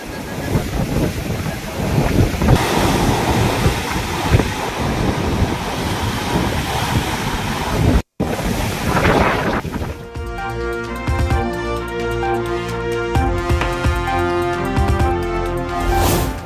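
Rough, churning sea surf on the Kanyakumari coast, a loud continuous roar of crashing waves with wind buffeting the microphone, cutting briefly before a section overlaid with music.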